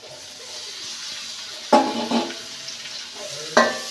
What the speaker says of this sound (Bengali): আর এ পর্যায়ে আমি এর ভিতর টমেটোগুলো দিয়ে দিচ্ছি।